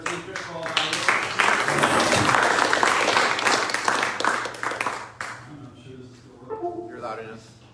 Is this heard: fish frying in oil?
no